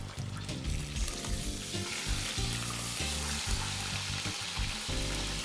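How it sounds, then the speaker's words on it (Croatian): Meat for Dalmatian pašticada frying in hot fat in a pot, a steady dense sizzle running loud and continuous throughout, with occasional shifts as the pieces are turned. "i povremeno okrećući pržimo ga sa svih strana"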